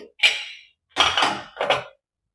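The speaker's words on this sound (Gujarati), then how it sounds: "તો હવે આપણે અહીંયા વરાળ નીકળી ગઈ છે અને કુકર ખોલીને" Pressure cooker lid being opened after the steam has been released, giving three short metallic clanks and scrapes of the lid against the pot, close and crisp with silence between.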